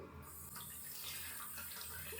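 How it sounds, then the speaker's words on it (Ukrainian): Water runs steadily from a tap into a sink while someone wets their face during an evening skincare routine, a continuous close hiss of flowing water with no speech. "Тому ми зараз мочимо наше обличчя водою."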